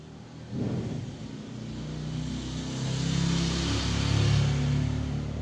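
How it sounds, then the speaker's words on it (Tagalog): Motorcycle engines drone past at moderate distance, rising and swelling as they go by, with a constant traffic rumble throughout. "Ang ingay ng background ko! Daming sumadaan ng mga motor."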